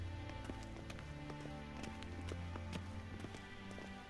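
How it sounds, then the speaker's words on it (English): Footsteps in The Witcher 3 game, a quiet, steady patter of steps over a dense bed of ambient sound and music, with no talking. "Footsteps."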